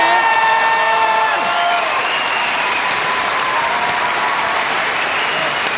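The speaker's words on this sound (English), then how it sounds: "Can you please give him a big round of applause" A studio audience at a Melbourne International Comedy Festival television show breaks into loud, sustained applause that fills the whole stretch, with a few brief tonal sounds near the start.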